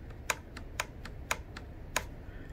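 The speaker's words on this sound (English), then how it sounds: "Now you hear it clicking, but it's not triggering." A TC Compass 30-06 rifle trigger, unloaded and on safety, clicks about five times in a loose rhythm, sharp and close against a quiet background hiss.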